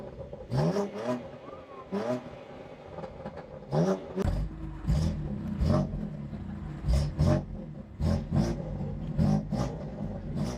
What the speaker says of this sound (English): BMW still makes rear exhaust tips, and they make a real sound